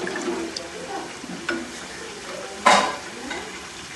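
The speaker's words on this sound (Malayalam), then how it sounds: "പിന്നെ നന്നായി ഒന്നിത് ഇളക്കാം." A spoon stirs a large pot of chicken mandi biryani broth with pepper and dried lemons, giving soft scraping and clinks against the metal, one sharper knock, and a faint simmer underneath.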